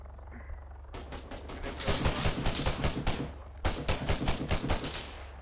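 Gunfire in the ArmA 3 combat video game, with a rapid rattling stream of shots starting after a short quiet moment, pausing briefly, then resuming loudly and close.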